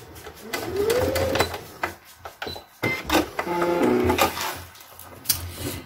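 Domestic sewing machine stitching forward and then in reverse on fabric for a small sewn cone, giving short bursts of mechanical whirring and clatter with pauses and changes in rhythm.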